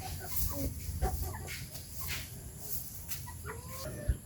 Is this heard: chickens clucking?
yes